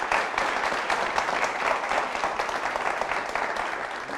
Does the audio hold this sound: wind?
no